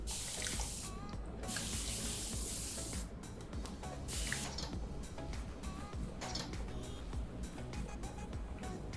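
A spray bottle wetting a section of hair during a haircut for curtain bangs, giving several close hissing squirts in quick bursts over soft background noise.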